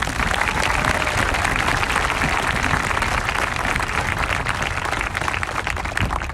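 Spectators at a Cupertino High School marching band summer showcase applaud the band staff, a dense, even roar of many hands clapping nonstop at full strength.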